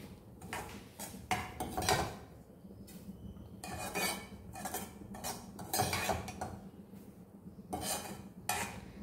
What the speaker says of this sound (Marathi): तर असा मी पूर्ण हा रवा या प्लेटमध्ये काढून घेते